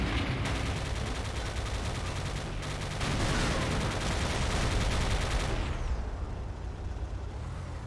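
Continuous automatic gunfire from gunners in a Command & Conquer game, a dense rattling barrage that runs steadily for several seconds before easing off toward the end, with game effects layered in.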